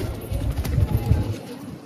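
Green pigeons kept in a collection coo softly in low, rolling murmurs over a couple of seconds, close by, with faint background noise.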